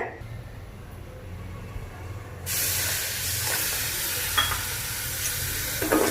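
A steady hiss and sizzle of sugar and water syrup boiling in a hot pan for chilli candy, starting quiet and then jumping louder, with occasional clinks.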